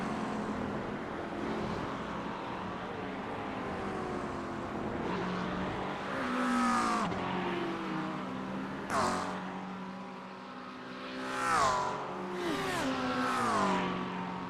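GT3 race cars including a McLaren in a racing video game howl past at Road Atlanta, several engines rising and falling in pitch as they rev and shift, moderately distant and layered over each other.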